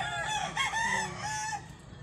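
Chickens and a rooster crowing close by in a backyard, a couple of drawn-out crows and clucks overlapping in a steady, fairly loud stretch with no talking.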